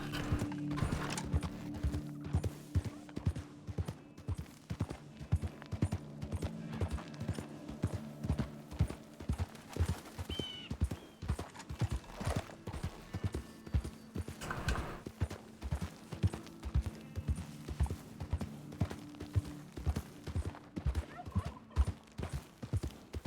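Steady clip-clop of horse hooves in Red Dead Redemption 2 plods along in an even rhythm, close and clear, with occasional faint background sounds and no voices.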